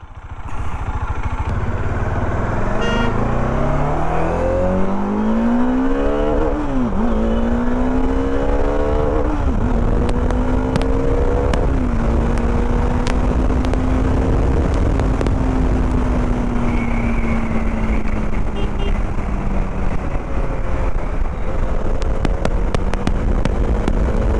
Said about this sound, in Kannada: ಐ ಹೋಪ್ ನಿಮಗೆ ಇದರ ಎಕ್ಸಾಸ್ಟ್ ನೋಟ್ ಕೂಡ ಕೇಳಿರ್ತದೆ